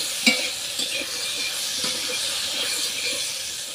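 Eggplant fries in a pan with a continuous close hiss and crackle, a few soft knocks breaking through the steady sizzle.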